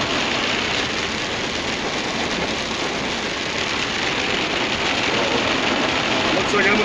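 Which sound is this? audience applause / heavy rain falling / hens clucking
heavy rain falling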